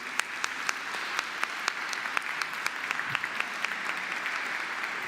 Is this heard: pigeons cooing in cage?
no